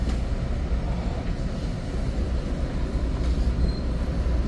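Steady, loud rumble of an Exo commuter train riding in a Bombardier MultiLevel rail car, continuous wheel and track noise with no talking.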